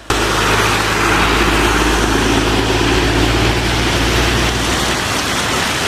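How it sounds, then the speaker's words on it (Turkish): A heavy, short-lived downpour pounds the roads hard enough to nearly flood them, a loud continuous rush of rain close by, with an engine hum under it that fades near the end. "Kısa süreli sağanak yağışa birlikte neredeyse göle dönen yollarda"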